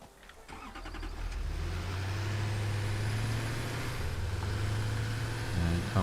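A vehicle in the Satisfactory factory game starts up, then a low, steady engine drone holds at constant loudness as it drives closer.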